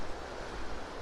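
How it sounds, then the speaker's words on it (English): A calm outdoor river flows with a broad, steady rushing wash, close to the microphone, mixed with some wind buffeting and no voices. "So the river's a lot calmer today."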